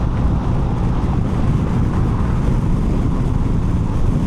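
Heavy, constant wind roar buffets the rider of a 2026 BMW R 1300 RT motorcycle at speed with the windshield lowered, a dense low rushing blast that never lets up.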